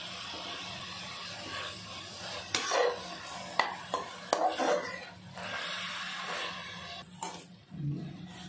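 Agathi greens with cooked toor dal and chopped coconut stirred in a pan, with a quiet bed of sizzling under scattered spoon scrapes and clinks against the pan, close and fairly faint.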